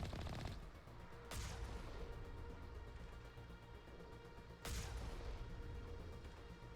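Gunfire in a video game aimed at a colossus, two sharp loud shots about three seconds apart rising over a dense, continuous rumble of game noise and music.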